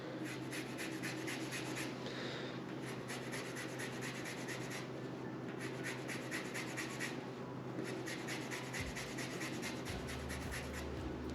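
A lemon scraped across a grater to make zest for a crab melt, a soft rhythmic rasping in repeated bursts of short strokes, quiet and close, over a faint low hum.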